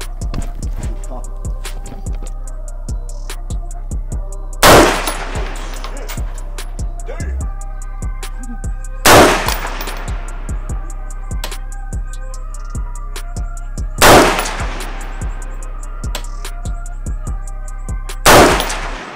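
Pistol shots from a Springfield Hellcat and a Sig P365 at an outdoor shooting session, four loud sharp reports spaced about five seconds apart over a steady low hum and scattered small clicks.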